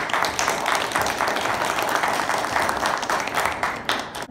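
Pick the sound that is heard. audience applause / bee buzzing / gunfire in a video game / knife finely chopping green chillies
audience applause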